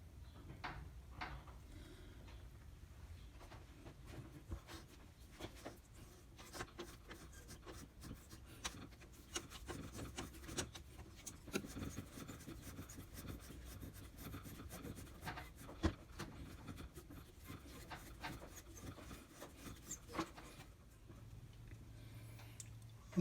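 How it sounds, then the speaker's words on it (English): A thread tap cuts triple-start threads inside an oiled pen blank on a lathe, giving faint, steady scraping and rubbing with small irregular clicks over a quiet background. "now all we have to do is cut the threads on the inside, the triple start"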